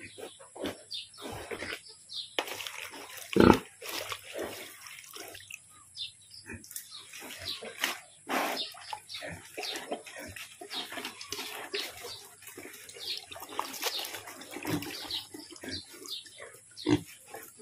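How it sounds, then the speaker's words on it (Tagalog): Piglets grunting and squealing, used to eating Madre de Agua, with scattered close snorts and sharp bursts over a quiet farm background, some bird chirps and faint talk. "yung mga biik na to ay sanay na kumain sa Madre de Agua"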